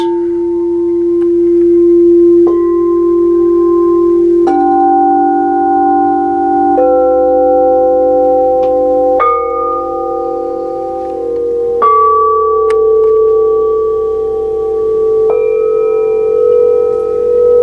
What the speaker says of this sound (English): Can we hear some singing bowls?